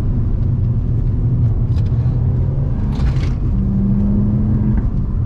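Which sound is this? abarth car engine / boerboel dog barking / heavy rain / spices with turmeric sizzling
abarth car engine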